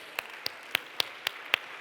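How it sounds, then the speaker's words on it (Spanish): Sharp, separate handclaps ring out at a steady beat, about seven in under two seconds, close and fairly faint, as an audience applauds participants at a primary school good-practices presentation. "un fuerte aplauso para los participantes"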